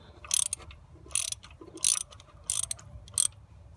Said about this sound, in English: you can take off the ratchet and then just loosen it